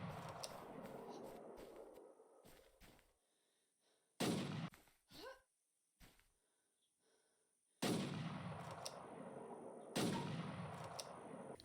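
Video-game gunfire from a rifle in a zombie arena shooter, heard as a few separate loud shots or short bursts with silent gaps between them and no talking.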